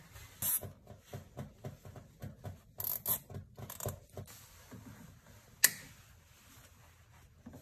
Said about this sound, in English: All right, so let's get a zip tie on there.